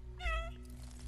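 A single cat meow from the player's cat character in the video game Stray, a clear rising-and-falling harmonic cry lasting about a third of a second, close and distinct over a low steady background hum.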